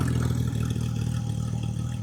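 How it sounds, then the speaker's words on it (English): A Porsche GT3 Touring engine runs close up with a steady, throbbing mechanical drone and a slight clatter, holding an even level with no clear rise in pitch and no talking. "Oh, you want to rev it? Just a couple revs."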